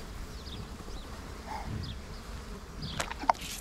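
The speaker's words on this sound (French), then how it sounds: "elles ont des mouches" Flies buzz around dairy cows outdoors, with several faint, intermittent passes drifting near and far over quiet ambience.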